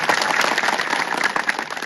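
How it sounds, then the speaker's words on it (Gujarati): A crowd at a political gathering claps steadily for the village heads, a dense, even wash of applause from many hands with no voices over it. "એમના માટે જોરદાર એકવાર તાળીઓ પાડતો"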